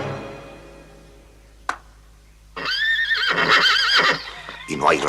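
A horse whinnies loudly up close in a long, shaky neigh, then gives a shorter second whinny, after a faint sharp knock and a quiet stretch of low hum.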